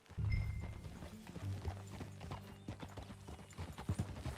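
Hooves clip-clop as horses are ridden in Red Dead Redemption 2, a quiet rhythmic trot of hoofbeats with low tack rattles and a brief soft snort near the start.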